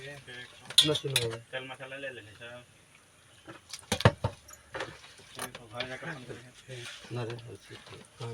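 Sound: mixing aloo bonda batter in a bowl

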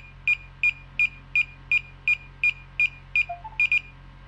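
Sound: DJI Avata drone beeping during pairing

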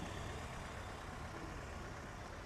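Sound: vehicle engine idling

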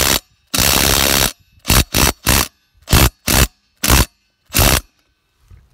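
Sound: cordless impact driver tightening a bolt

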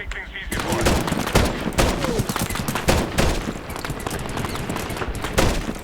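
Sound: gunfire in Medal of Honor video game

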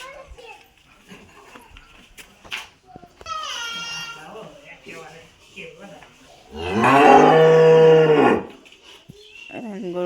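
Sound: cow mooing in the morning

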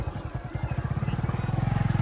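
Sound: motorbike

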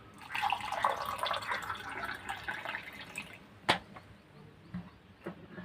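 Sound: water poured into a glass

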